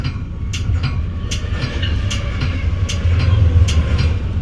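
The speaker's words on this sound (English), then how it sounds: "this is the westbound super hotshot intermodal originating at the Cicero, Illinois, Burlington Northern Santa Fe Railway terminal" A westbound BNSF super hotshot intermodal freight train passes close by out of the Cicero, Illinois terminal, with a loud continuous rolling rumble and a regular rhythmic clickety-clack of wheels over rail joints.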